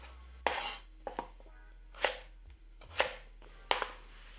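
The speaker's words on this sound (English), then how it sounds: "Peel and dice the sweet potato." A knife chops sweet potato on a board in several separate, crisp strokes with short pauses between them, close by and fairly quiet.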